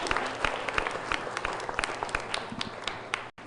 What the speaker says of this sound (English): let us give a round of applause to distinguished panelists here